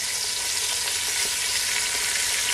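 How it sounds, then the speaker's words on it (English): Pieces of rabbit sear in a pan, giving a steady, close, dense sizzle with no talk over it. "cook off our rabbit real fast. And fry it up just a little bit"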